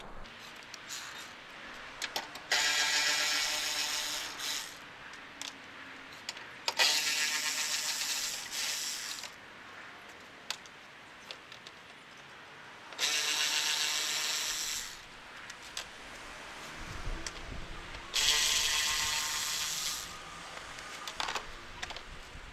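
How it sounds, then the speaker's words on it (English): A hand ratchet backs out headlight bolts on a Nissan Maxima, with four bursts of quick, close clicking separated by short pauses and light handling noises. "let me take these bolts out."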